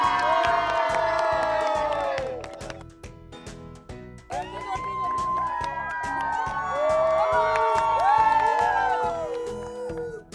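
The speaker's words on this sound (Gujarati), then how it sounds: "બંને ટીમ માટે જોરદાર ચીયર અપ થઈ જાય." Students at a school games event shout and cheer loudly for both kabaddi teams after the match, a dense, sustained crowd roar with high excited whoops and calls rising and falling throughout.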